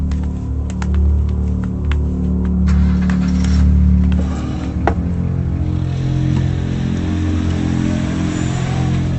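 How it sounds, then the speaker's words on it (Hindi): A car engine runs and pulls away, a steady low rumble with some brief clicks early on, holding at a moderate level before easing off. "गाड़ी निकाल बे।"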